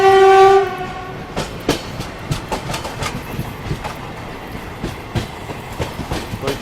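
A passenger train near Santragachi sounds a loud, sustained horn blast, then its wheels keep up a steady clickety-clack over the rail joints as it rolls past close by.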